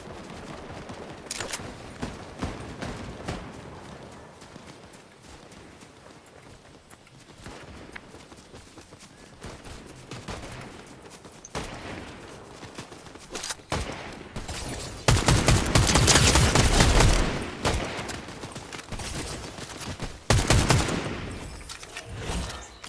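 Gunfire in a Fortnite squads match: scattered shots and rapid bursts, distant at first and then louder and closer toward the end, over steady game ambience.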